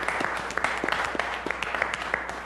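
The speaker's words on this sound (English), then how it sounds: "if you would just join me one more time in giving them an applause." A public safety news conference audience applauds the gang unit, with a short burst of scattered, moderately loud clapping from a crowd in a room.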